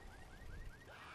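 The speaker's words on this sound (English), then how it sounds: "Car alarm set off" A car alarm goes off in the Left 4 Dead video game, repeating a rapid rising whoop several times over, faint and distant against low background rumble.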